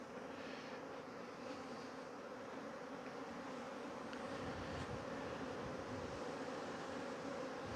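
Honey bees fly around the hives in a steady, faint buzzing drone that continues throughout with no breaks.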